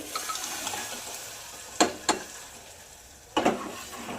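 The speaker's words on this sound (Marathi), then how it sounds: "असं हलवून घ्यायचं" Finely chopped cooked spinach greens being stirred into an oil-cooked mixture in a pan, a low sizzle under three sharp scraping strokes of the spoon, two close together then one after a pause.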